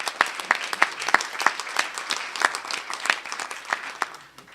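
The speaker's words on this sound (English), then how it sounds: "Let's give them a round of applause and thanks." Applause from a board of education meeting audience, a steady wash of many hands clapping with sharp individual claps standing out, moderately loud and sustained without talk.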